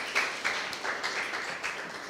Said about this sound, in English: I would request, every student to give a big round of applause for all the AVENIR team